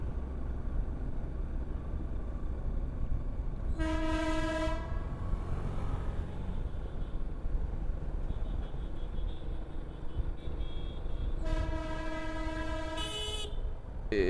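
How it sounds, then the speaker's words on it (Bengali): Darjeeling Himalayan toy train ahead on a winter road ride from Siliguri toward Dawaipani in North Bengal: two long, harmonic horn blasts, the first around two seconds, the second after a gap, over constant road and engine rumble. "হর্নটা মার রে বাবা।"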